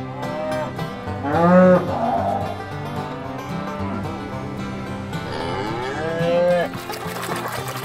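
A cow moos twice, loud and drawn out, each call rising then falling, with a few quieter animal sounds between them and no talking.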